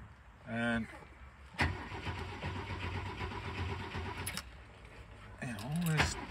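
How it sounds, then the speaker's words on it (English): A Volvo C306 engine started on the choke: a short starter whir, then a catch into a steady idle running close by, with a jingle of keys and someone talking over it near the end. "it always starts quite easily with the choke."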